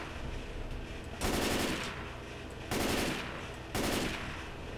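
Automatic weapon fire in Left 4 Dead 2, three loud sustained bursts in quick succession, each about half a second to a second long, with quieter game ambience between them and no talk.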